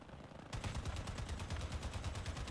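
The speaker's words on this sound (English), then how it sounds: "Did I just get shot at by my own teammate right there?" Rapid automatic gunfire from a teammate's vehicle weapons in the combat game Crossout, a fast steady stream of close, loud shots bursting in suddenly after a brief quieter moment.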